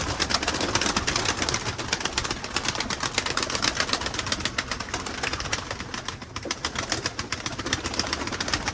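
Pigeons in a backyard loft make a dense, constant wash of rapid pecking, scratching and rustling, with soft cooing and occasional wing flutters, close up and alone.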